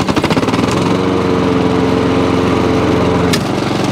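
A Honda HRX537 lawn mower engine running steadily after carburetor cleaning, a loud close continuous throb with an even rapid pulse that holds constant throughout.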